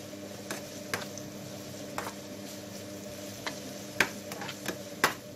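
Garlic frying in oil in a pan, a soft continuous sizzle under a faint hum, with scattered stirring clicks and taps, close and quiet.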